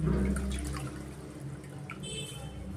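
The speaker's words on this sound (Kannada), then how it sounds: "ಬ್ರೆಡ್ನ ನಾವು ಈ ಥರ ಡೀಪ್ ಮಾಡಿ ನೀಟಾಗಿ ನೀರೆಲ್ಲ ಹಿಂಡ್ಕೊಬೇಕಾಗುತ್ತೆ" Water drips and trickles as soaked bread is squeezed out for aloo tikki snacks, a few soft wet drops and splashes close by over a low background hum.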